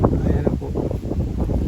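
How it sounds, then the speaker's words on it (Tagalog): Strong wind over rice fields in Sigay, Ilocos Sur, buffets the microphone with a loud, continuous low rumble while a person talks over it. "Lakas ng hangin, sariwang hangin"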